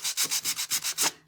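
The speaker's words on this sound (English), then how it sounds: "Some people don't even like to distress by sanding, and some people like to do it a lot." Wood being sanded by hand to distress a painted craft piece, a gingerbread boot and mitten, with eight close, steady rubbing strokes in an even back-and-forth rhythm and no talk.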